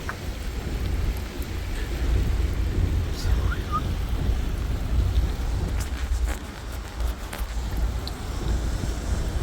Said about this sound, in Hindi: अभी बारिश फुल हो चुकी है।